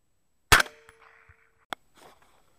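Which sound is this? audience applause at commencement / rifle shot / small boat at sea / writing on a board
rifle shot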